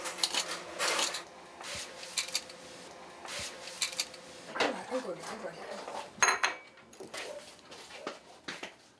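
A knife chops deodeok root on a cutting board, slow and careful, giving irregular wooden knocks and taps in bursts with short pauses, fairly quiet in a home kitchen with faint background voices.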